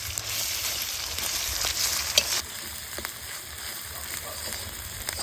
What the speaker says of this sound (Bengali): এই সময় দিব আছে আদা বাটা আর রসুন বাটা আদা বাটা রসুন বাটা এবার কাঁচা রসুনের গন্ধ যতক্ষণ না পালা ততক্ষণ ধরে আমরা কিন্তু কষিতে থাকবো